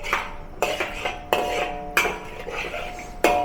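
Metal utensil clinking and scraping against a pot of braising Chinese fish sauce, several sharp knocks at irregular intervals between softer stirring scrapes, close and fairly loud with no talk.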